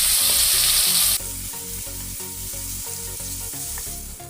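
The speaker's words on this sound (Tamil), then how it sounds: "வெங்காயம் தக்காளி நல்லா வதங்கணுங்க." Chopped onions and tomatoes sautéing in oil in a pan for a lady's finger kara kulambu curry, with a steady loud sizzle and regular rhythmic stirring scrapes throughout, no talk.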